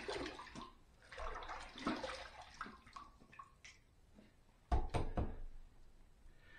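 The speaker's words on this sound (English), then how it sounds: "Well, we're going to have to rinse first." Water splashes and runs during a rinse after a razor shave with a PAA Burnt Orange Ascension razor, irregular close splashing with a louder burst of splashes near the end.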